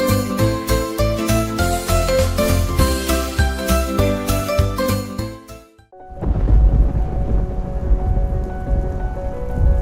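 Steady rain pours over a thunderstorm scene in an animated animal moral story, first under loud rhythmic music, then alone as a dense close rush with low rumbling after a brief drop.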